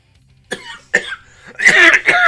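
A man laughing coughs several times in quick bursts, starting with short separate coughs and ending in a louder, rougher fit, close to the mic.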